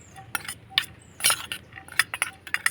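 Sabudana paste being mixed with red food colour, a spoon clinking and scraping against a bowl in a series of short, fairly close taps and stirs at a quiet level, with no voices.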